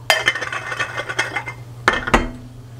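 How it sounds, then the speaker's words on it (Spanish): Ice cubes clinking and clattering into a container of cucumber and lemon water, a run of bright close knocks followed by two sharper clunks near the end, with no talk. "Al final le agregamos el hielito"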